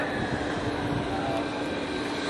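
A San Diego trolley train rumbles steadily nearby, a dense continuous roar of wheels and motors filling the whole stretch with no break.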